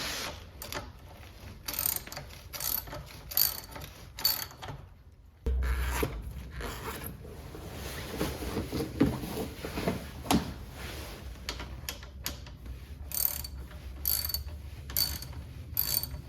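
Mechanical ratcheting clicks from a wrench tightening M8 bolts that fasten battery cable lugs to terminals in a battery box of an electric-converted Toyota pickup, a steady run of close, repeated ratchet strokes with a brief pause midway.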